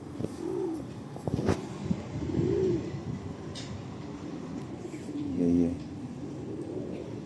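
A pigeon, a purple-toned street bird, coos softly in a few low rolling calls, while someone talks over and between them outdoors.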